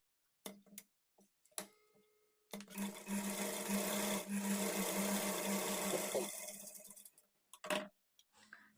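A sewing machine runs a line of top stitching on blouse fabric in one steady whirring burst of about four seconds, framed by short clicks and handling noises before and after.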